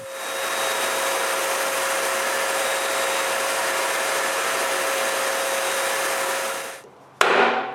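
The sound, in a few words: spraying a coat of varnish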